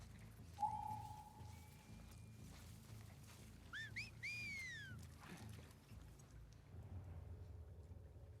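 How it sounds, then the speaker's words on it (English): Enemies whistle to one another in the video game The Last of Us Part II: a short flat whistle, then several quick sliding whistle calls at moderate distance over a low outdoor ambience. "These whistles sound very close every now and then."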